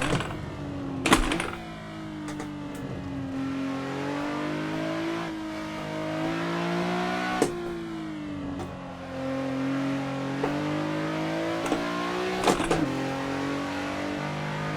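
Nissan 370Z Nismo engine in Assetto Corsa on the Nordschleife, a steady droning rev that rises and falls through gear changes, with brief sharp bursts near the start and at intervals, running continuously with no talk.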